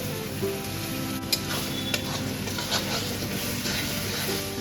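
Ginger garlic paste sizzles and fries in a hot pan with meat for biryani, a steady close crackle with a few faint utensil clinks as it is stirred.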